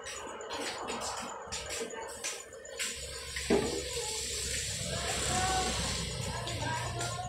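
Water runs and splashes into a container, a steady rushing flow that builds and continues after some earlier clattering, with a faint voice in the background.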